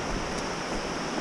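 A big, strong creek flows under a footbridge on the Pratt River Trail, a dense, loud, steady rush of water with no breaks.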